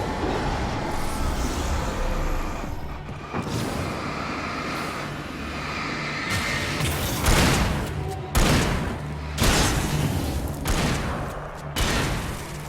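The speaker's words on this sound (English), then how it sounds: "It's a fucking weak ass shotgun" A shotgun booms in the Alan Wake video game, several loud, sharp blasts spaced a second or two apart over a rumbling, tense game soundscape.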